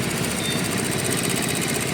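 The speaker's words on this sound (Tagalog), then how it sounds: "Grabe, sobrang smooth ng makina." A small engine hums along steadily and evenly close by, with a fast, regular throbbing rhythm and no voices.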